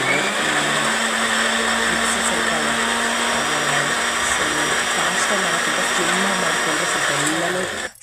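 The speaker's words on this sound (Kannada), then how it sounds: "ಈಗ ಮಿಕ್ಸಿ ಮಾಡ್ಕೊಳ್ತಾ ಇದ್ದೀನಿ ನೋಡ್ಬೋದು" A mixer grinder blends orange juice with jaggery and milk, a loud steady whirring motor drone running continuously for several seconds before cutting off at the end.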